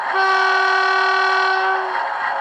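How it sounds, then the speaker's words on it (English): The two-tone horn of a Bachmann Class 47 model diesel locomotive plays through its DCC sound decoder. It is one steady, sustained chord of loud, close, even tone held for about two seconds, with no one talking. "Function 4 is horn two-tone."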